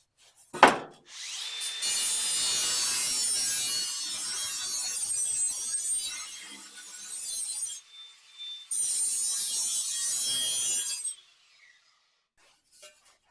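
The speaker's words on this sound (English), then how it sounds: "take a flap disc to this and just try to smooth that out" Flap disc on an angle grinder smoothing a cut edge for a Chevy hot rod bed floor, a loud harsh grinding rasp in two long passes after a sharp knock, then stopping.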